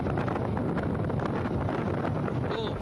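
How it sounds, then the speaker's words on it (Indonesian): Strong storm wind buffets the microphone on the Pariaman coast of West Sumatra, a dense, continuous roar that stays loud throughout with no clear voices. "Pesisir pantai Pariaman, Sumatera Barat pada Senin siang tiba-tiba diterpa badai disertai angin kencang."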